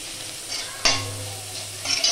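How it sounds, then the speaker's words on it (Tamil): Vegetables with salt hit hot butter in a pan, giving a sudden close sizzle that keeps hissing steadily, with light stirring scrapes. "இப்போ இந்த வெஜிடபிள்ஸ் போட்டு கொஞ்சம் வதக்கிக்கலாம். கொஞ்சம் சால்ட் போட்டு இந்த காயை வதக்கிக்கலாம்."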